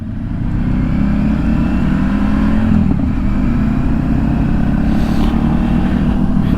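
Triumph Tiger 900 GT motorcycle engine running steadily while riding, a loud continuous mid-low drone with a slight rise in revs midway, close and unbroken throughout.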